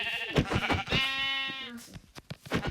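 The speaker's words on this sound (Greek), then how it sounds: "Α, έχει πρόβατα εδώ." Sheep bleating in the Minecraft video game: a few loud, wavering bleats close up, with clicky game sounds between them and no talk.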